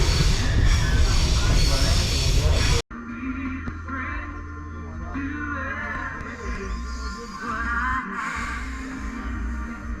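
A passenger train rumbles along while heard from inside its restaurant car on a trip across Tanzania, a loud burst of noise cutting abruptly into a steadier low rolling drone with faint rattles and hiss.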